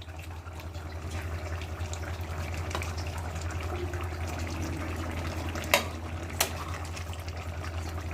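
Fish curry with pumpkin bori, eggplant and potato stirred in a pan, a steady low sizzle with soft scraping and two sharp clinks of the spoon against the pan near the end.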